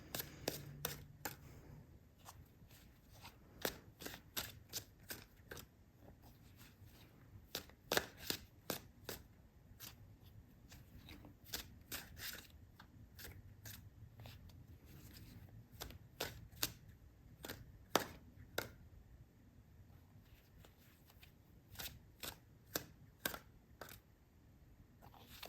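Tarot cards are shuffled and handled in repeated bursts of crisp riffling snaps and light slaps, spaced irregularly over a quiet background, close and fairly soft.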